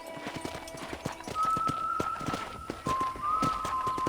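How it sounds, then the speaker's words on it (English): A horse's hooves clip-clop in a steady trotting rhythm in the video game Red Dead Redemption, joined partway through by a sustained whistling tone above the hoofbeats. "let's see if you can still ride a horse"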